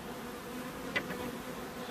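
Honeybees hum at an opened hive of a weakened colony that had swarmed, a steady low buzzing drone with one brief louder buzz passing close in the middle.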